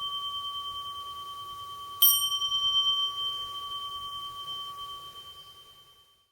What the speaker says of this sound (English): The Jikijitsu rings the bell slowly 3 times, and we all do a standing bow together.